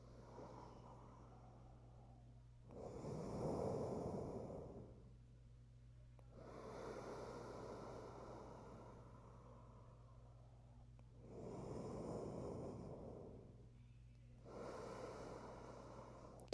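Slow, deep breathing held during a yoga stretch: four long, soft inhale-exhale swells spaced evenly, close to the mic over a steady low hum, with no talking.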